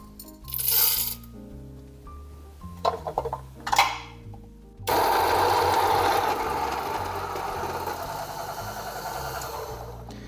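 Electric coffee grinder whirring steadily through Panama Geisha beans for a few seconds, loud and close, after some scale taps and handling clicks.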